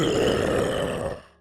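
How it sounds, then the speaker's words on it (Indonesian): Low, guttural monster growl lasting just over a second, loud and close, rumbling steadily before fading out at the end, in an eerie setting beside an old well. "tiba-tiba aja ada suara geraman yang muncul"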